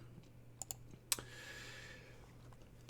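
A few sharp computer mouse clicks, close and crisp, spaced irregularly over a few seconds against a low steady background hum, with no voices.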